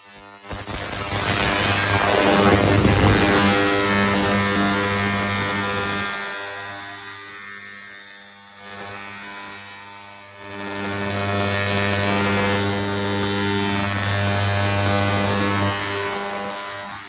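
A Creworks 2L ultrasonic cleaner runs while cleaning a Bosch sender from a DeLorean, giving a steady electric hum and buzz that swells and eases slightly over the whole stretch, with no talking.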